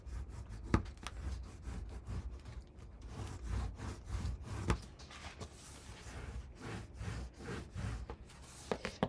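Scrapbook paper pages in a mini album being burnished by hand, a series of soft, close rubbing and scraping strokes repeating in an uneven rhythm.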